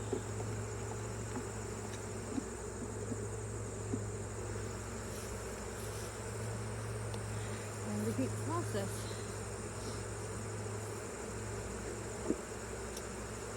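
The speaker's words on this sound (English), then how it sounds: "Sound of the bees. To me, it's music." Steady, dense buzzing of a mass of honey bees in an open hive during inspection runs throughout, with a person speaking briefly over the hum.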